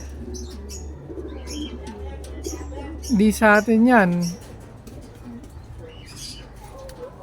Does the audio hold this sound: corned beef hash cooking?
no